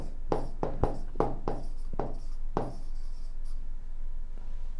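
Marker or chalk strokes on a board during a chemistry lecture, a quick run of short scratchy strokes in uneven rhythm followed by a longer stroke, close and fairly loud with no talk.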